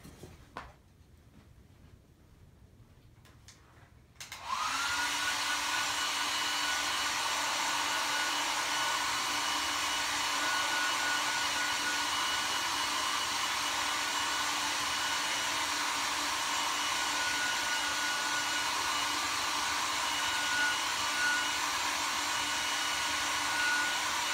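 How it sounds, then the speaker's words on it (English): A hair dryer switches on after a few quiet seconds and blows with a loud, steady whooshing roar that continues to the end. "I'm going to hit this with a hairdryer real quick."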